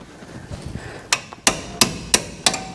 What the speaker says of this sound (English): I'm putting my wrench on and tap it a couple times with my sledgehammer